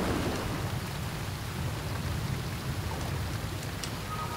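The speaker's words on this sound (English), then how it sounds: "Waterfall!" Steady roaring rush of falling water from a waterfall in the video game Never Alone, a dense continuous wash that stays loud and even throughout with no voices over it.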